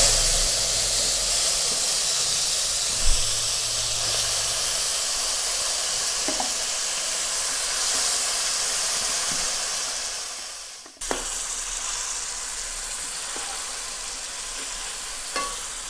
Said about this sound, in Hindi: अब हम इसमें कलेजी डालेंगे।